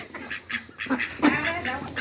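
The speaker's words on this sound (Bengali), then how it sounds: "যে সব হাঁস আসতেছে" Ducks quack and honk in a loose flock nearby, with a person's voice calling intermittently over them.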